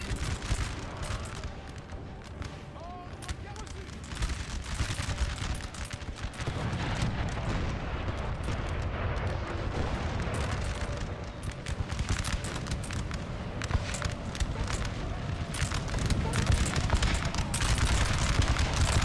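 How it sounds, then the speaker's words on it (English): Massed musket volleys fired at point blank range in the Napoleonic battle game Napoleon: Total War, a dense continuous roar of crackling gunfire and booms that grows louder and fuller toward the end, with no talk. "Firing point blank into them."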